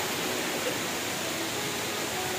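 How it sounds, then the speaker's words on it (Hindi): A large waterfall, Nilam Sarai in Usoor, Bijapur district, Chhattisgarh, pours as a steady, dense roar of rushing water, loud and unbroken throughout with no voices. "क्या नजारा है, बहुत ही बड़ा वाटरफॉल।"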